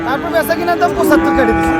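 A cow lows loudly and close at a rural cattle market in Dinajpur, one drawn-out moo with a rising then falling tone, with market chatter faintly underneath.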